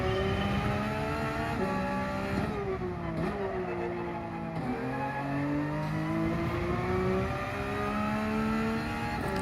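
A Porsche 992 GT3 R race car lapping in Gran Turismo 7, its engine loud and steady, climbing through the revs and dropping sharply at each gear change, without pause.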